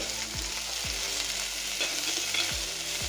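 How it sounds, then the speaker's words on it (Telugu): Cabbage pieces frying in hot oil with cumin and fenugreek for cabbage pachadi make a loud, steady sizzle, broken by occasional low thuds of stirring, with no speech. "ఇప్పుడు క్యాబేజీ ముక్కలు వేసుకోవాలి"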